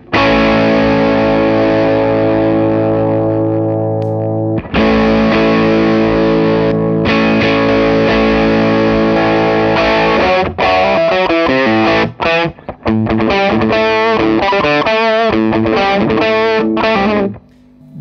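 Electric guitar through a Matchless HC-30 amp with added gain plays a crunchy, distorted rock rhythm part, loud and close, with sustained chords giving way to choppy strummed stabs.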